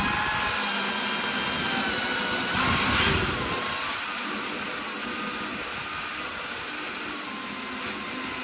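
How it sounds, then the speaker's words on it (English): Power drill bores out spot welds on body panels of a 1966 Ford Bronco under restoration, a steady high whine that pitches up and wavers under load, close and loud, then eases off near the end. "So let's drill it out."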